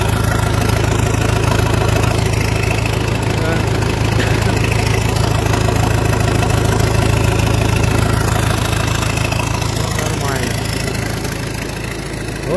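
A car engine idles after a cold start at minus 9 degrees, a loud continuous close rumble with a slight knock under occasional talk.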